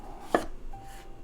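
A single firm knife chop comes down through butternut squash onto a cutting board, a short sharp thunk up close, followed by a faint rustle, with no talking.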